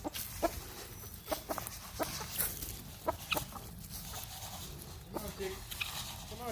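Backyard chickens cluck and call repeatedly, scattered close by, while being fed oyster shells and scratch grain spread in a bowl; a person's voice calls to them now and then.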